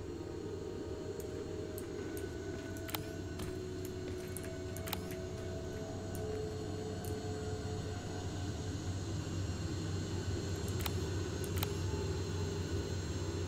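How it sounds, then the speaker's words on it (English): Large hovering drone in Terminator Resistance, a steady low droning hum overhead, continuous and moderately loud with a few faint clicks, no talking. "wait till the drone leaves, and we're gonna run"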